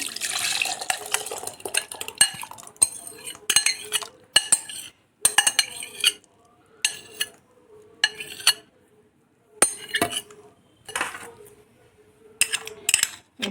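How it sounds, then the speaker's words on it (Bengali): Milkmaid-style sweetened mixture poured and scraped into a mixer grinder jar, heard as close bursts of liquid splashing with metallic clinks and scrapes of a spoon against the jar, separated by short pauses, with no talking. "এবার এটা একটা মিক্সির জারে ঢেলে নিলাম।"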